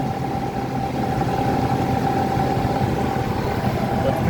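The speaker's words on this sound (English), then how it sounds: "This has a nice fan noise." Steady, even whir of a dehumidifier fan with a China-made motor, running continuously up close with a constant low hum and a faint tonal whine, no voices.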